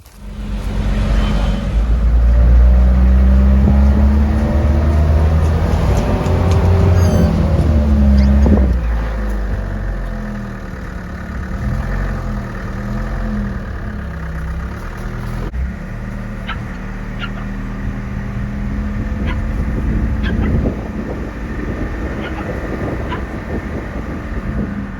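Borrowed pickup truck driving near a beach, its engine and road rumble loud and continuous, swelling early and then settling to a steady drone with wind buffeting the microphone.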